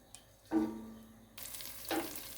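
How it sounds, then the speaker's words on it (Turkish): Tomato paste hits hot olive oil in a pot with a brief burst of sizzling, then a steady soft frying hiss, and a second flare of sizzle near the end as the paste is stirred. "Salçamızı 1-2 dakika bu şekilde kavuralım."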